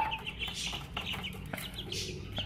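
A young rooster chick clucks and peeps softly and repeatedly, nearby but faint, over a quiet background.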